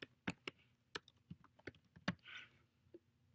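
Someone types on a computer keyboard in short, irregular bursts of crisp, close key clicks with pauses between them in a quiet room.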